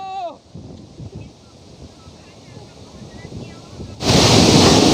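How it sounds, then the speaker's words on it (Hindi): Waterfall water splashing and rushing, a broad steady wash that swells suddenly louder and close near the end, with a brief voice at the start. "किस तरह से हम इस झरने का मज़ा ले रहे हैं"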